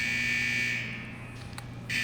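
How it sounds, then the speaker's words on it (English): Alarms blare at a fusion press in the World of Warcraft video game: a steady electronic buzzing tone runs through the whole stretch, dipping slightly in the middle before swelling back to full strength. "Those alarms indicate that we're encountering some minor technical difficulties with the fusion press unit."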